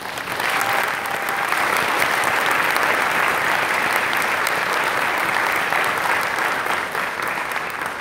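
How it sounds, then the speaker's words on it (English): Sustained crowd applause at the Tokyo in Tulsa anime convention at the Cox Business Center in Oklahoma, a broad wash of many hands clapping, steady and loud for the whole stretch. "all those people up on stage deserve a huge round of applause"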